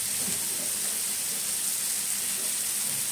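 Eggs fry in a pan for bhurji, making a soft, steady sizzle close by that runs briefly without pause and with no voices.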